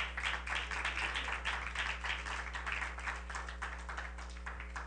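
Church congregation applauds steadily during a sermon, a continuous wash of many hands clapping at middling distance over a low constant hum, with no speech on top.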